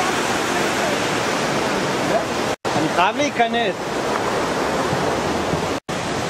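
Water rushes steadily in Nahal HaKibbutzim, the Asi stream, a close, loud and continuous wash with people talking briefly over it.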